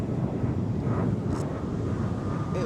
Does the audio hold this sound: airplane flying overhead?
yes